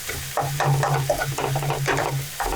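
Butter sizzles in a stir fry pan of foraged greens such as horsetail and nettle while the food is stirred, giving close, crackling frying sounds with bursts of scraping from the stirring.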